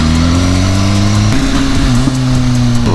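A BMW S1000RR superbike engine runs loud and close with a steady droning exhaust note, shifting pitch partway through and releasing a brief exhaust pop.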